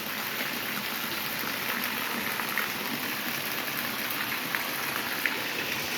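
Steady rain falls outdoors, heard while someone walks through it under an umbrella: a dense, even hiss of drops with occasional faint patters. The wash stays constant and close for the whole stretch, with no voices.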